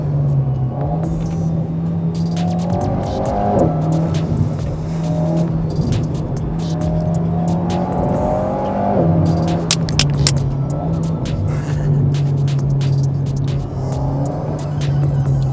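An Alpine A110 engine drones and surges as it accelerates, with shifting revs, a faint turbo whine, slight wheelspin and scattered rattles and clicks throughout.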